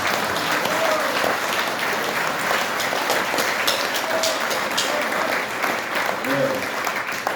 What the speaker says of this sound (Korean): 박수를 한번 해주시기 바랍니다